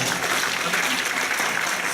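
Audience applause fills a live Broadway-style musical show in Hoover, Alabama: dense, steady clapping from a crowd, loud and continuous throughout.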